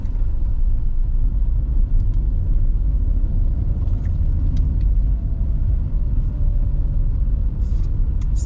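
A car engine rumbles steadily and loudly from inside the vehicle as it accelerates in city traffic during a driving-school lesson, a continuous low drone with road noise and faint clicks.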